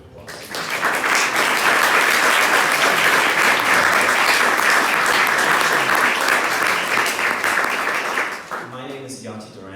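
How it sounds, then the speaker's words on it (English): Loud, dense applause from an audience welcoming guests before a film music Q&A interview, sustained for several seconds before fading as a voice begins speaking. "give them a round of applause"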